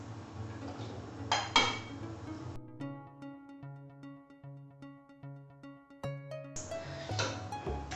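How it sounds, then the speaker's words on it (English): Button mushrooms tipped into a cooking pan make two short clattering, rustling bursts at the start and the end, separated by a quieter stretch of soft tonal background. "I'm also going to add about 125 button mushrooms"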